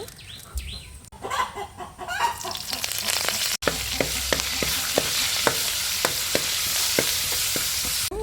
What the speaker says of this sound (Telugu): కరివేపాకు వేసి నేను కొద్దిగా పోపు అయితే పెడుతున్నాను